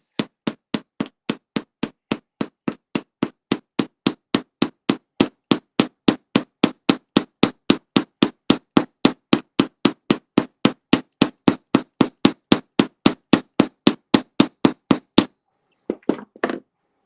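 A ball peen hammer strikes metal to flare paddle ends, giving a long run of about fifty sharp, evenly spaced taps at a quick, steady pace. The blows are close and crisp, and a few softer hits follow after a brief pause.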